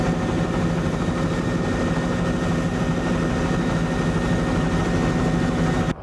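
A loud, continuous helicopter drone with engine whine and steady rotor throb, close and unbroken for several seconds before stopping abruptly.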